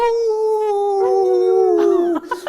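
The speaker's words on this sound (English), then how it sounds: "Can you get Theo to howl?" A dog lets out a long, sustained howl, its pitch sliding gradually downward before breaking off near the end.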